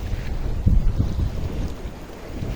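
Wind gusts past a rock pool by the Pacific Ocean, a low, steady buffeting rumble across the microphone with no voices.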